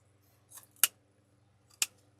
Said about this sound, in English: Now you can come on in and you can trim your ribbons like what I'm about to do now.